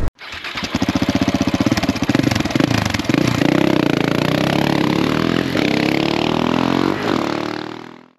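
A KTM 690 Enduro motorcycle is ridden on a road trip: a loud, close engine that chugs, then climbs and falls in pitch as it revs through gears, with wind rush, before cutting off.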